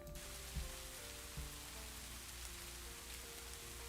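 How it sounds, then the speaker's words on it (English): Steady rain ambience played as background sound for a writing session, a continuous soft hiss of falling drops on a surface, quiet and even throughout with no voices over it. "Why don't we turn on some rain?"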